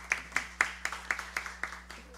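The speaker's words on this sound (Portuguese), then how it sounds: "Uma salva de palmas, Fernanda." Applause at a health and sanitation committee meeting: a single person's even, rhythmic hand claps, about four per second, close and moderately loud over a steady low hum, with no voices.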